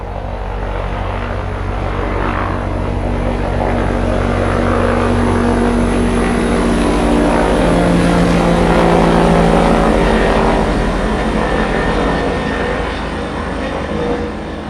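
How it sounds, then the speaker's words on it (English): A loud, low helicopter rumbles overhead, its throbbing roar swelling and fading as it passes, with no voices. "the helicopter was flying low. So you can really hear it."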